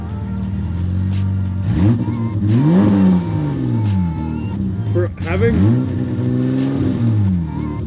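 A loud, unmuffled Volkswagen MK7 engine with an IS38 turbo and no exhaust revs hard several times, pitch climbing and dropping in repeated bursts, with a voice briefly speaking between revs.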